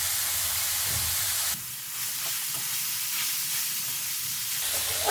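Grated carrots frying in ghee for carrot laddu, a steady close sizzle and hiss with stirring, briefly quieter partway through, no voices.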